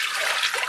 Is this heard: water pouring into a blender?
yes